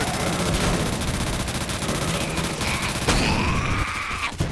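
A minigun in the Roblox game Zombie Uprising fires in a loud, continuous rapid burst, dense mechanical rattling that holds steady throughout with a few higher whining tones near the end.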